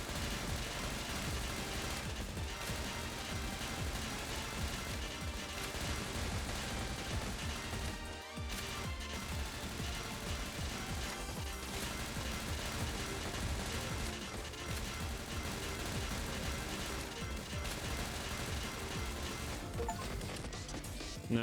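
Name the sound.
multi-missile launcher firing in the video game Snezhinka: Sentinel Girls 2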